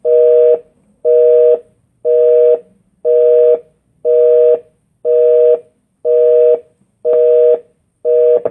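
A telephone line sounds its tone as a call is placed: a loud, steady train of about nine identical beeps, each roughly half a second long, evenly spaced with short silences between them, and no voices.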